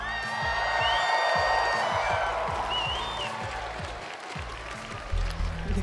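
A live crowd at a Fortnite FNCS esports broadcast cheers and applauds loudly, with whoops rising above a sustained roar and music playing underneath.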